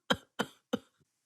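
An old man coughs three times in quick, evenly spaced, close bursts, each a sharp hack trailing off, followed by a faint throaty sound.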